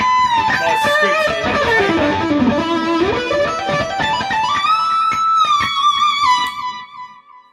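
A distorted electric guitar through a delay pedal plays a sweeping melodic line, each note trailing into repeating echoes that blur together before it gently fades out.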